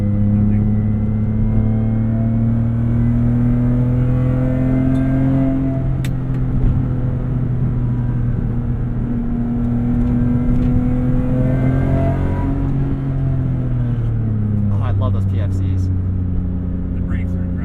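BMW E46 M3 track car engine heard from inside the cabin, a throaty steady drone that rises and falls with revs, loud and continuous, with people talking over it at times.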